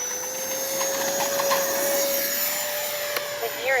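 A radio-controlled Freewing 90mm F-4 Phantom II jet fitted with a 5,000 HRB turbine and KM model version 5 afterburner whines steadily and loudly in flight, a high sustained tone gliding slightly upward over a broad rushing roar.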